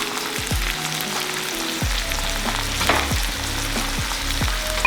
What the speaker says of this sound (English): we're getting a good sear on our pork chops